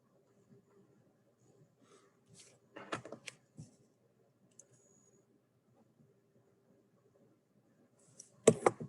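Calculator buttons being pressed, a few faint separate clicks scattered in quiet, with a sharper cluster of taps near the end.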